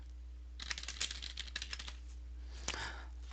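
Rapid, uneven clatter of typing on a computer keyboard, close and fairly quiet, with bursts of keystrokes, a short pause, then a few more taps.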